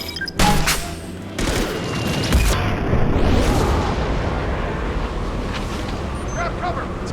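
A grenade detonates in a Mass Effect 2 firefight with a loud, sharp boom, followed by a long roaring rumble and scattered crackling debris, with voices shouting amid continuous gunfire.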